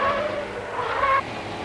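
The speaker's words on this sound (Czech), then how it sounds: "Jsme svědky zkoušek osobního vozu Tatra 603." A Tatra 603 passenger car with an air-cooled engine drives past during testing, a continuous engine drone with a high tire squeal rising and falling, heard alone at moderate distance.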